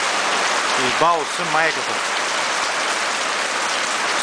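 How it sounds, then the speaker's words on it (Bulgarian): Steady heavy rain drums on a tent during a camping trip, a dense close patter that runs throughout while someone speaks briefly over it. "Защото вън вали много."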